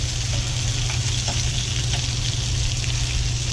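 Flanken cut beef short ribs, already oven-cooked for six hours, sear in a hot frying pan, giving a steady, loud, close sizzle and crackle that runs throughout with no talking.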